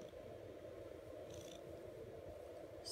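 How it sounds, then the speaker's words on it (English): A cat purring softly up close, a steady low rumbling drone with a couple of faint higher rustles, quiet and continuous throughout. "You just lay in here purring."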